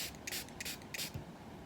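Quick close-up spritzes from a spray bottle, three or four hissy bursts in rapid succession.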